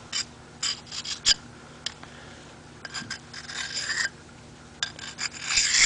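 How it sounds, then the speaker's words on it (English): A metal file drawn at a shallow angle along the edge of a bushcraft knife, giving short rasping strokes in uneven bursts, close and fairly quiet with no talk. "my file at a real shallow angle, I go with the edge"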